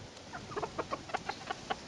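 Chickens clucking in a steady run of soft, rhythmic calls from a small flock, close by over a constant outdoor hiss.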